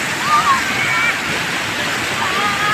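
Rushing water pours over a waterfall formed at a broken bridge, a constant broadband roar close by, with faint whistling tones and brief splashes riding on top.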